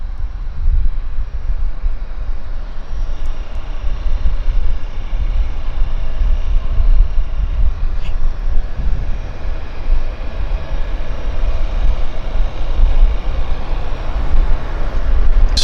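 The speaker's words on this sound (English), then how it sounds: "So now we've got a buildup of aircraft taxiing out" Aircraft taxiing at Vancouver Airport, a continuous broad engine rumble and whine heard from a distance, steady and fairly loud throughout with no speech.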